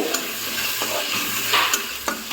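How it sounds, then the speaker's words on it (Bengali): Ginger-garlic paste sizzles in a hot pan for pav bhaji while being stirred, a steady close frying hiss broken by a few scraping clinks of the spoon, with no talking. "তারপরে এখানে দিয়ে দিচ্ছি আদা রসুনের পেস্ট দিয়ে এটাকে একটু ভালো করে"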